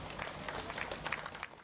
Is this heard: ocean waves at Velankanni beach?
no